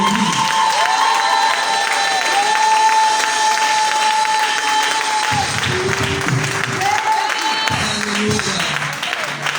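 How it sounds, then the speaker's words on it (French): A church congregation at a Pentecost service bursts into loud applause and cheering, a dense crowd roar with shouts and whistles, voices calling out above the clapping throughout. "Je voudrais qu'on bénisse Dieu par nos acclamations pour la vie de son serviteur"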